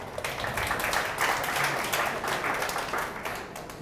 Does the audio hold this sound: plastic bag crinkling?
no